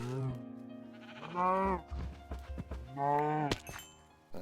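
Minecraft cows lowing with drawn-out, wavering game moos: two long bellows a couple of seconds apart, fairly close and clear, with small thumps and game noises in between and no talk.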